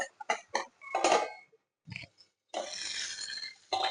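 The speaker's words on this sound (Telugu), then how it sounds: "ఉప్పు వేసాక ఇలా ఒకసారి కలుపుకోవాలి" Onions frying with salt in a pan are stirred by hand, giving a few short utensil scrapes and clinks against the pan, then a steady close sizzle; no one speaks.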